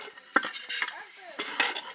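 Metal utensils and pots clatter and clink in a busy home kitchen, with several sharp knocks and scraping stirs close by, steady and moderately loud throughout.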